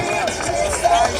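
Air show crowd on a deck at Jones Beach cheering and making noise as a plane passes, with a dense roar of voices and an announcer speaking over it.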